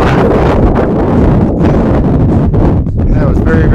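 Strong wind on the summit of Mount Elbert, Colorado, buffets the microphone in loud, continuous gusts, a heavy rumbling roar with brief dips, and a faint voice can be heard briefly beneath it.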